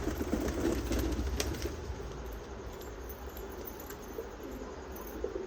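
Pigeons at a loft during a pigeon sale coo softly and repeatedly, a steady low murmur of calls against faint insect-like background hiss.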